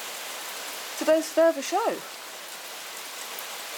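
Steady light rain hisses throughout at a constant, moderate level, on a morning with thunder and lightning about, while a person speaks briefly over it near the middle.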